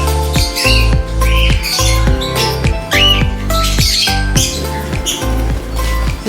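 A lutino pearl cockatiel squawks loudly and repeatedly at close range. Its shrill, harsh calls come in a quick, uneven series with no pauses, and no one talks.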